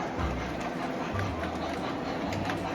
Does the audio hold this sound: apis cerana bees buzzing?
no